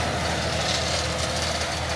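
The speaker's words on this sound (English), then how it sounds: "What a tractor." A John Deere 7R350 tractor pulls a rake through a grass field at first-cut silage, giving a steady, continuous engine drone with broad mechanical noise, loud and close for the whole stretch, with no voices.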